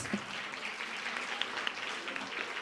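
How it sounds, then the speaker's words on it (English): Faint audience applause at a school theatre prize giving as dignitaries hand a prize to a young actor, a soft, distant, even patter of clapping with no voices over it. "A huge round of applause"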